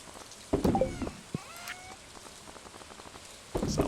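Rain falls steadily in the farming game Stardew Valley, a soft continuous patter with a few brief chiming game tones layered over it and no talking.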